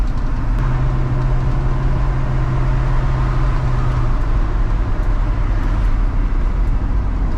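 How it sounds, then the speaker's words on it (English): A lifted Chevrolet Squarebody truck drives along a main road, with a loud, steady engine and road rumble running throughout and a sustained low tone through the first half. "Never thought I'd see the day of me driving this thing on the main road."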